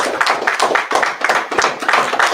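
Church congregation at a Sabbath service claps in a loud, rhythmic, steady beat of repeated hand claps, close and continuous.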